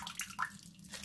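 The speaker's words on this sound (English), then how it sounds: "Drain it really well." Water draining from a batch of soaked rice, a soft, brief splashing trickle with faint gurgles, heard close and quiet, with nobody talking.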